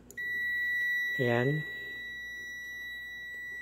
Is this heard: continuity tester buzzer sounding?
yes